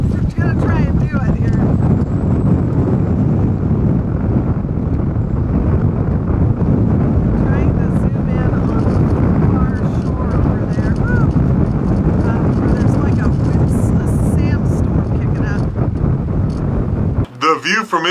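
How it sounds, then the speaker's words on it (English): Strong wind of 25 to 30 knots buffets a boat at anchor in the Sea of Cortez, a loud, steady roar with gusty rumble throughout before cutting off abruptly near the end. "From inside now, sitting between 25 and 30 knots of wind."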